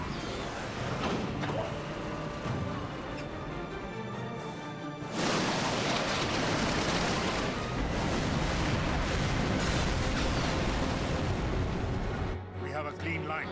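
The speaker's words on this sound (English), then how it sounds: "Give word to the cannons." Ship cannons fire a volley in the Final Fantasy XII video game. A broad, rumbling barrage erupts midway and sustains for several seconds before cutting off, over a busy mix of game sound and voices.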